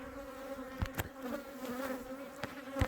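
Honeybees drone steadily around a hive at an outdoor apiary, a close, continuous buzz with individual bees zipping past the microphone now and then.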